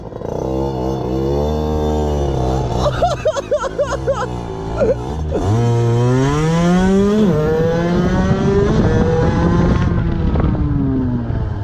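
A 50cc moped fitted with a Most exhaust pipe accelerates hard, its loud, close buzzing whine climbing in pitch through repeated rising sweeps.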